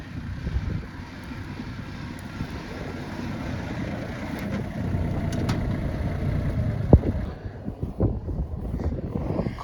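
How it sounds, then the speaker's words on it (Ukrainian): A Hitachi NZ 195 tractor engine drones steadily at a distance while ploughing, under heavy wind rumble, with occasional knocks and clatter, and no voices. "Класний трактор, тихенько працює."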